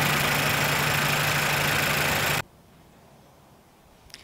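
Chevrolet Malibu with a four-cylinder 1.5-liter engine idling under the open hood, a loud broadband hum that stops abruptly partway through, leaving a faint background hiss and a small click near the end.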